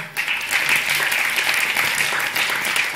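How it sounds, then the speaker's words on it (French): Conference audience at Agile Grenoble 2018 applauding loudly, a dense, steady burst of clapping that fills the whole stretch without pause. "je vous demande de l'applaudir très fort."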